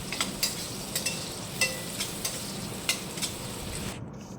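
Chopped tomato and onion sautéing in a pan, a quiet steady sizzle broken by intermittent soft scraping stirs with no talk.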